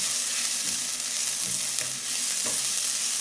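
Onion sizzles in hot oil in a pot after ginger has been fried, a bright steady hiss punctuated by three or four soft spatula scrapes, close and alone.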